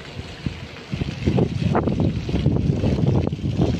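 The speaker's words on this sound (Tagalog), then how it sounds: "Yung tubig pala doon sa fountain." Water from a fountain at a train station splashes steadily and close by, its broadband wash buffeted by gusts of wind against the microphone, with no talking.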